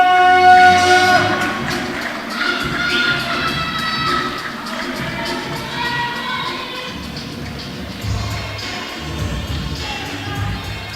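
A live crowd at a Wyld Style event in Long Beach cheers and roars continuously, with whistles and shouts rising through the mix and a surge near the end.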